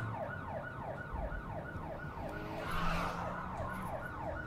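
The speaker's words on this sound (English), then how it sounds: "Those police sirens are really awkward because they're like behind you." Police sirens wail from behind the player in the driving game Blind Drive, a steady repeating rise-and-fall whoop that swells slightly louder midway and carries through the whole stretch without speech.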